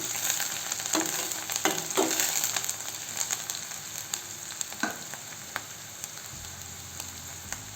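Garlic-ginger paste fries in a pan for pav bhaji, a steady close hiss of sizzling oil broken by a few scraping stirs and light knocks of the spoon against the pan.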